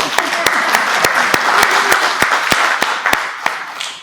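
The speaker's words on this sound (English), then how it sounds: "Yeah, you can clap." Audience clapping at a village trustees meeting in a hall, steady dense applause with sharp close individual claps punctuating it, slowly easing off, with some talk underneath.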